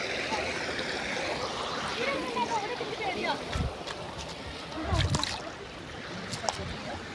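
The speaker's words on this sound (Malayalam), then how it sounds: "ഈ വെള്ളച്ചാട്ടം കണ്ടത്." A waterfall and river rush in a steady, broadband roar that fills the scene, with voices faintly audible beneath the constant flow of water.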